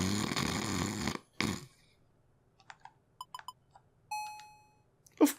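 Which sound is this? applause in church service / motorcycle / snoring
snoring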